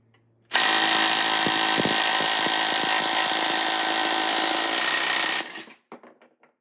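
A Milwaukee 3/8-inch impact wrench, M12 or M18, hammers on a bolt held in a vise in one loud, continuous burst of about five seconds, then cuts off with a few trailing rattles.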